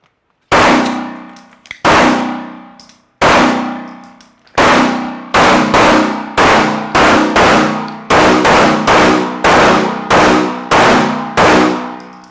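Gunshots ring steel targets at an outdoor shooting range: a sharp metallic clang follows each loud shot, starting as spaced single hits and quickening into a rapid, rhythmic string of ringing impacts near the listener.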